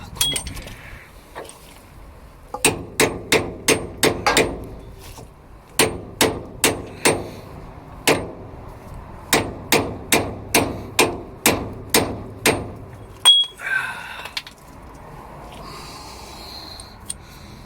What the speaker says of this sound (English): I'm going to just try smash it in with a hammer